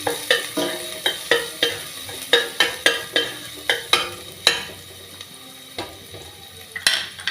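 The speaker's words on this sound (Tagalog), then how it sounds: "So ilagay na natin yung garlic. Brown natin ng kaunti." Garlic browning in olive oil in a pan, sizzling steadily while a utensil stirs and scrapes with quick, regular clicks, close and clear, with no talking.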